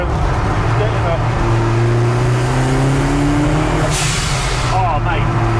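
A 300 hp ZCars Hillman Imp with a turbocharged 16-valve engine pulls hard under acceleration from inside the cabin, its loud steady drone climbing through the gears, with people talking over it.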